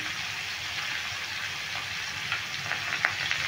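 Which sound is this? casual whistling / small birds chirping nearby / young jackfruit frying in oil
young jackfruit frying in oil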